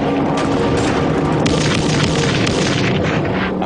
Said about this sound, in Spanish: La ametralladora pesada Duska del calibre 50 desata su poder devastador una vez más.